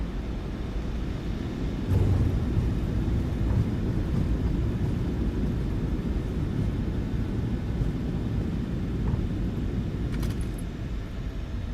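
Steady low roar of a PMDG 737-800 airliner on the runway with max reverse thrust after landing in MSFS 2024, a continuous broad engine rush that swells briefly early on and then holds steady.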